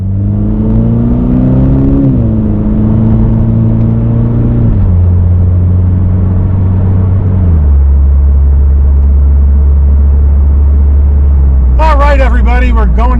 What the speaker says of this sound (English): I got road noise, I got wind noise, but it's a little sports car